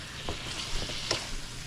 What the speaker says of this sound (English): So now we're just going to brown that up in the pan